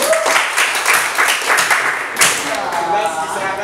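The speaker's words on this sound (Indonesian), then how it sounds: "Beri aplaus." A classroom of students applauds a student group, a steady burst of many hands clapping close by for several seconds.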